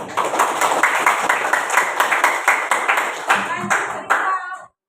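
A group claps hands in a steady rhythmic pattern, loud and close, ending abruptly after a few seconds, with a bit of voice mixed in.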